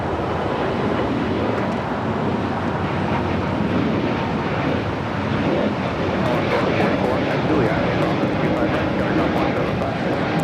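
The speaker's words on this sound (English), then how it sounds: "This is Spirit Airlines 326 taking off to Houston Intercontinental on an A320neo." Spirit Airlines Airbus A320neo taking off at LAX, bound for Houston Intercontinental: a loud, steady, broadband engine roar holds throughout, close and unbroken.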